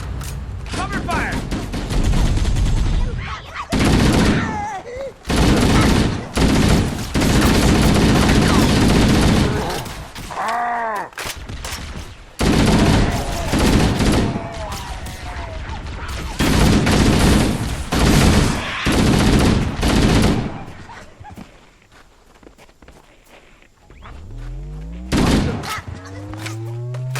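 Heavy gunfire in a video game, loud bursts and sustained volleys filling most of the stretch, with shouted voices between the shots, then a quieter lull near the end.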